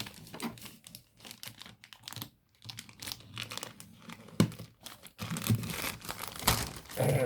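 A plastic mail bag being cut and torn open by hand, with close, irregular crinkling, crunching and ripping over several seconds that grow louder and busier toward the end.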